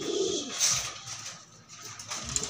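Pigeons at a loft give soft, low cooing calls, a couple of close murmured coos with light rustling and chirpy background noise, no voices.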